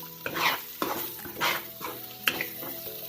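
Ground masala paste being stirred with salt in hot oil, with soft sizzling beneath repeated scraping strokes of a spoon against the pan, close and alone.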